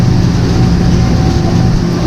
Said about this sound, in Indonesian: Ini keretanya nih guys.